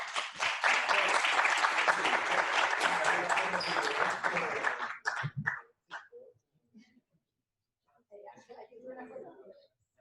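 Applause at a club awards event, a burst of clapping that runs for about five seconds, then fades into scattered claps, a dog's brief barks and a little talk.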